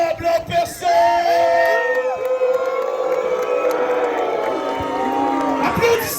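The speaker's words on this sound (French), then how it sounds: "applaudissez le diable en personne!" A campground crowd at Camping Les 7 yells, whoops and cheers in a loud, sustained wash of many voices, rising and falling for several seconds as a performer dressed as the devil is introduced.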